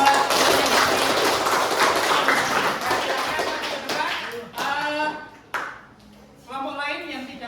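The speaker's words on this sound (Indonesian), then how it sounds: "Tepuk tangan buat" Students in a classroom clap together in a dense burst that fades after about four seconds, followed by a teacher speaking in Indonesian.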